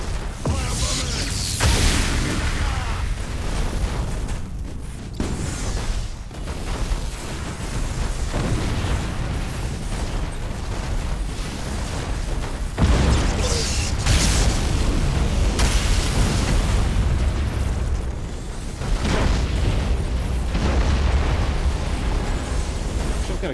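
Bomber attacks in the space battle game Battlefleet Gothic Armada 2, heavy rumbling explosions and booming blasts rolling continuously and loudly, with bursts swelling and fading throughout.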